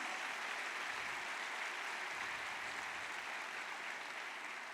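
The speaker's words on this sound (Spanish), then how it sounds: "Dale un fuerte aplauso al Señor Jesús" Faint, distant congregational applause fills a church service in a steady wash of hand claps, low in level and without clear voices over it.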